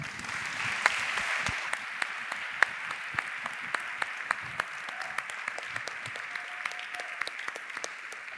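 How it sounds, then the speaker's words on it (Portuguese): A literary event audience applauds, a fairly thin, scattered clapping from a modest crowd with individual sharp claps standing out, steady for several seconds. "Uma salva de palmas para a Ana Celeste Ferreira."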